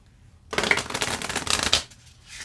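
A Priestess of Light Oracle card deck being shuffled by hand, one steady riffle of crisp card flutter about a second and a half long, close and clear with no voices.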